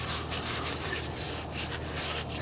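Steady, close abrasive scuffing with a rhythmic back-and-forth rasp, like a pad rubbing over a hard metal surface, on a Ford Super Duty axle, with no talking.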